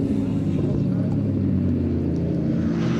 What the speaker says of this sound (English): Listen to the rumble there of that V8 engine Jaguar as it comes through Murray's corner.